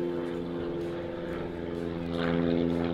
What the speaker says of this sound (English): How about that airplane?